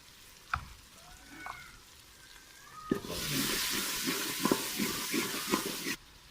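Spices for aloo methi fry in a pan, a quiet start with a few clinks giving way to a loud, steady sizzle with repeated scraping stirs before it cuts off.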